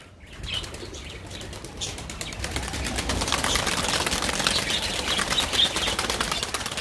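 Pigeons are released and take off together, a dense close flurry of flapping wings that builds and keeps clattering loudly throughout, with a brief faint chirp.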